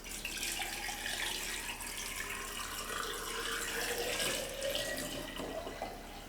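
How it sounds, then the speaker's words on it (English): Water glass solution is poured over eggs in a container, a steady trickling, splashing stream running continuously at a soft, close level. "we're going to pour it over the top of our eggs"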